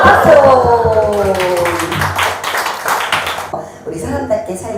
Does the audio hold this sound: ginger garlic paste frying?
no